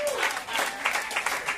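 Audience applause at a live boom bap music show, a brief burst of dense clapping from a crowd filling the short stretch at steady loudness.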